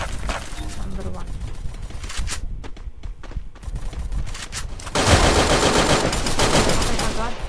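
Rapid bursts of automatic gunfire in a mobile shooting video game, loud and continuous with heavier volleys toward the end, while a player talks over it.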